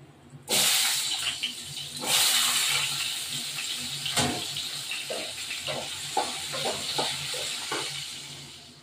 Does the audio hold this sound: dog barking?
no